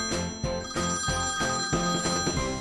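A phone ringtone plays through the speakers of a Ford KA+ car, a loud, bright, repeating electronic ring filling the cabin in a steady rhythmic pattern without any voice over it.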